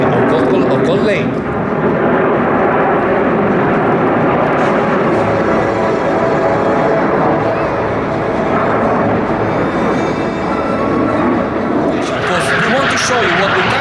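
Frecce Tricolori MB339 jets flying an airshow display at Cold Lake, a loud continuous roar of jet engines sweeping overhead with an announcer talking over the noise throughout.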